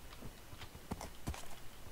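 Horse hooves clip-clop in the Minecraft video game, a few irregular thuds spread over two seconds under steady low background noise, moderately close.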